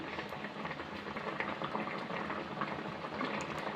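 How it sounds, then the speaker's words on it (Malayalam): Homestyle fish curry boils in a pot on the stove, giving a soft, continuous bubbling simmer, fairly faint and steady throughout with no talk. "ഇത് നന്നായി തിളച്ചിട്ടുണ്ട്"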